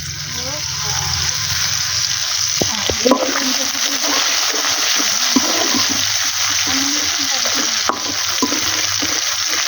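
Taro leaf curry is stirred in an oily pan, giving close, continuous sizzling with scraping and clattering strokes of the spoon. Someone talks intermittently over the cooking.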